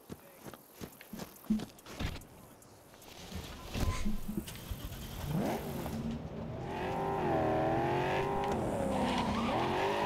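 A car drifting in the Cyberpunk video game, starting with scattered thumps and impacts, then a rising engine rev and long, wavering tire squeals as the skid builds, loud and close.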